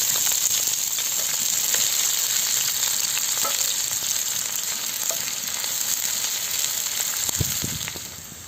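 Onions sizzle and fry steadily in hot oil in a pan outdoors for Turkish menemen, a continuous crackling hiss with small pops throughout.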